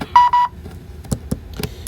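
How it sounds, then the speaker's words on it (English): A CareTech ZeitGeist timer gives two quick electronic beeps close up, followed by a few soft clicks and handling taps. "it beeped 2 times because we put it on for 2 minutes"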